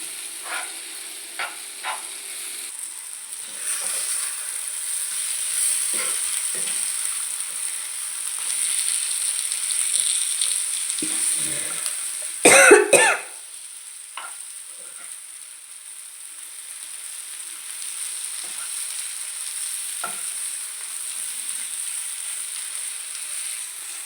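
Country chicken egg fry being stirred in a pan, with a steady sizzle and scraping spoon strokes, a brief louder clatter near the middle, no talking.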